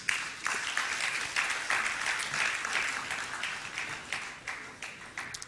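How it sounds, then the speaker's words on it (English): A conference audience at an insurance industry event applauds a speaker called to the platform, dense continuous clapping filling the room at steady volume, with faint voices underneath. "Round of applause, please."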